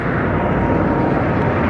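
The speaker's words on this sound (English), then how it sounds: "McCarran Airport's right next door, so you can hear the planes taking off." Jet airliners taking off from McCarran Airport in Las Vegas, heard as a loud, steady roar that fills the short stretch without a break.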